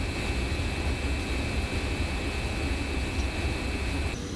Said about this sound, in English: We've got a vertical turbine slurry pump here, and that's providing the flow to the clarifier.